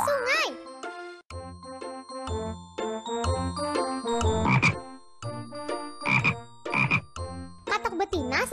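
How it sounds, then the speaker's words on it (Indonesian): A pair of frogs at a riverbank croak in short repeated bursts, fairly close, mixed with chiming musical tones throughout. "Lihat, sepasang katak sedang di pinggir sungai."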